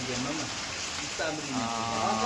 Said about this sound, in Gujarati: વરસાદ એટલે વરસાદ